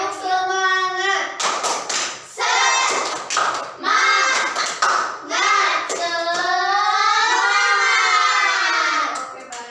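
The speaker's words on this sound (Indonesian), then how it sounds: "Tepuk semangat." A class performing the rhythmic 'tepuk semangat' clapping chant during a science lesson, with bursts of sharp group claps falling in patterned beats between loud, sung-out voices chanting together.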